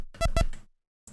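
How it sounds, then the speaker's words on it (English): A short Oberheim saw square synth sample, stretched and transposed, plays as a brief buzzy pair of bright stabs followed by a softer tail, then a gap of silence and a faint final blip. "This time I have an Oberheim saw square sample, which sounds like this."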